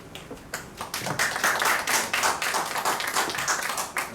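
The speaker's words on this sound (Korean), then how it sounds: "박수." At a mountaineering club gathering in Daegu, a modest audience claps in uneven bursts, the individual hand claps distinct and fairly close, moderately loud and with no talk over them.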